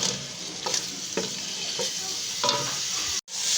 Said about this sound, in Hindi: तकरीबन 3 मिनट तक भून लीजिएगा।